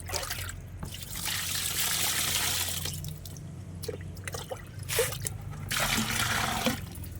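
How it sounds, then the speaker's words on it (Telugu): Water trickles and splashes into a homemade banana liquid fertilizer mix, a fairly steady pouring stream with brief pauses and a few small knocks, no voices. "ఇప్పుడు వాటర్ పోస్తాను."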